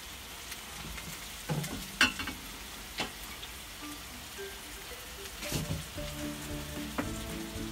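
Spices sauté in hot cooking oil in a pan, giving a soft, steady sizzle with scattered pops and occasional scraping stirs, quiet and without voices.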